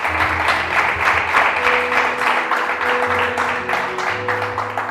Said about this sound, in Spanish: Vamos a darle un aplauso y se lo va a dar a Él